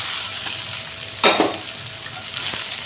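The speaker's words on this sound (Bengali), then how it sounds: "দিয়ে দিব এখন মাছের মাথাটা যে ভাজা রাখছিলাম ওইটা" A previously fried fish head dropped and stirred into sizzling spice paste for an eggplant fish-head curry: a steady hiss with a sharp clatter and sputter as it goes in, then a few faint scraping taps.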